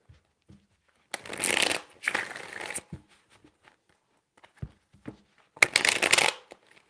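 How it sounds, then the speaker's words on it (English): Tarot cards being shuffled in three quick riffling bursts, the first two back to back and the third after a pause of soft handling clicks, close and crisp with no speech. "4 shuffles."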